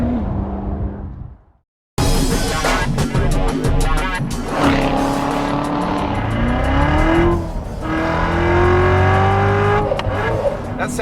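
Supercharged 6.2-liter V8 in a 2015 Chevrolet Corvette Z06 roars close and loud after a brief silence, revving hard through rising gear pulls with a sharp shift gap.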